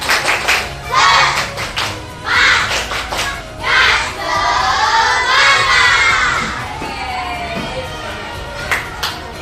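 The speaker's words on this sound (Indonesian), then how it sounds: "kurang semangat, tepuk semangat" Children at school do a rhythmic spirit clap, several quick bursts of claps mixed with loud shouting and cheering from the class, fading toward the end.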